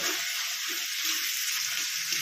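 Steady, bright sizzle of onion frying in hot oil with ground dried fish paste (shutki maach bata) stirred in, a continuous close crackle with soft stirring scrapes and no talking.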